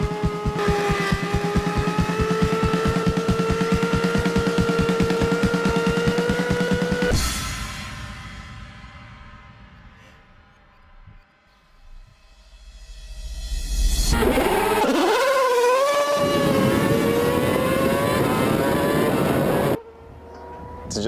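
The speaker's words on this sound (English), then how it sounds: "The last car's just getting to the grid now." Motor racing cars pull onto the starting grid before a race, with a loud, steady engine drone up close that fades away. A second car then approaches and revs up sharply, growing loud and near.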